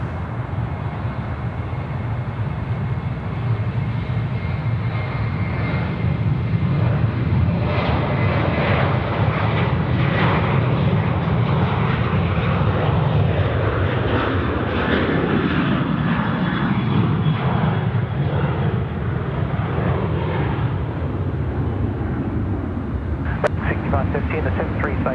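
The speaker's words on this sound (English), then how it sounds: "Next to go now is a Velocity aircraft now, Boeing 737-800, runway 34 right." Velocity Boeing 737-800 jet departing runway 34 right at Sydney Airport, a steady loud engine roar building and sustained throughout, with voices talking over it.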